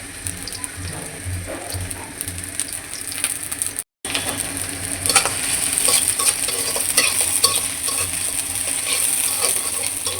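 Chopped onion and green chilies frying in oil in a pan: a steady, fairly loud sizzle with scraping and stirring clatter throughout. The sizzle swells a little after a brief break.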